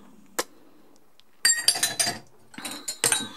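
Glass champagne flutes from a dishwasher clinking together: one sharp ring, then a quick cluster of bright taps and chimes, close and fairly quiet.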